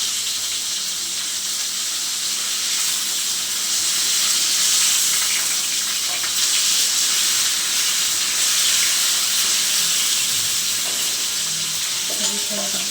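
Garlic and tomato fry in oil for a red chutney served with ragi mudde, making a continuous close sizzle and hiss with occasional soft stirring scrapes and no voices over it.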